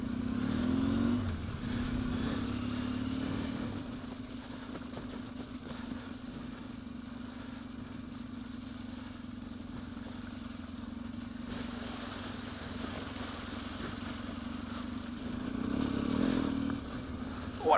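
A KTM off-road motorcycle creeps slowly over a rough, rocky track, its engine droning steadily throughout with a louder rise near the start and again toward the end, no talk over it.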